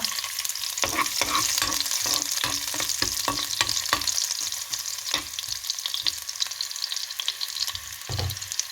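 Chopped shallots fry and sizzle in a pan for an elephant foot yam curry, with a constant crackling hiss and repeated scraping knocks of a spoon stirring them. Nobody talks.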